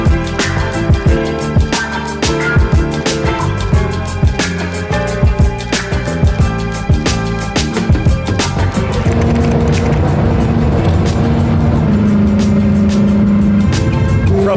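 A cheap used Ferrari is driven hard, its engine revving and shifting through repeated sharp bursts and pops before settling into a loud, sustained drone near the microphone.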